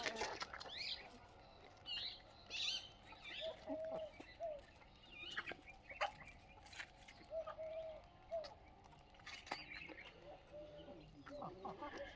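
Aseel hens cluck in short, repeated bursts at moderate distance on a free-range poultry farm, with scattered chirps and farmyard bird calls around them; no talking.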